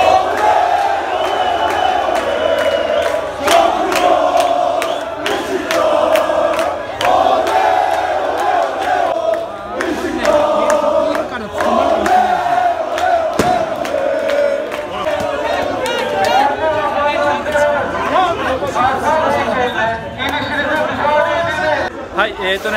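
Crowd of Beşiktaş football fans massed in a city street during a championship celebration, a loud, dense roar of voices and chanting shouts sustained throughout, close and enveloping.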